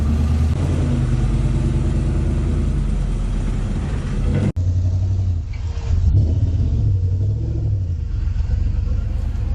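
A Porsche fitted with a turbocharged LS engine and mufflers drives along with a loud, deep, low rumble, holding a steady drone, then briefly cutting out before the throaty engine returns at a lower, varying pitch.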